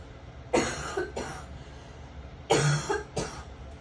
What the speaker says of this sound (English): I have to cough for a second